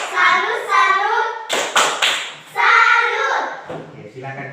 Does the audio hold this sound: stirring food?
no